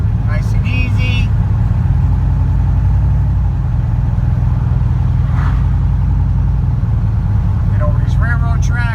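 An LSX-swapped GMC Canyon pickup with a boost controller and a turbo wastegate drones steadily up close, its engine note holding loud and continuous throughout. Faint higher whines and a brief hiss break through near the start, middle and end.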